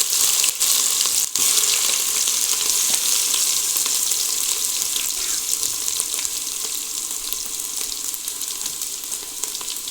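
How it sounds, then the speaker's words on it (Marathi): Ginger garlic paste sizzles and fries in hot oil with cumin seeds, cooking over a village wood-fired stove for country-style chicken rassa; a steady, loud hiss runs throughout with a few sharp crackles near the start. "आता अद्रक लसूण ते पेस्ट टाकून घेणार आहे"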